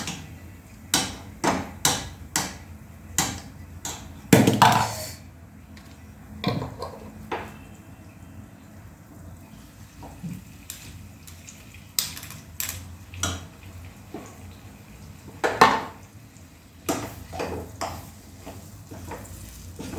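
A spoon stirs ghee into a banana burfi mixture in a pan, giving a series of sharp scrapes and knocks in uneven rhythm, with one louder clatter near the start and another partway through, over a low background.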